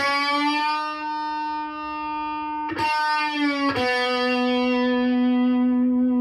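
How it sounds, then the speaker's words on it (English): A distorted electric guitar sustains a note, then is picked again and bent up a full step, the held pitch wavering with vibrato as it rings out. "it's just a full step bend"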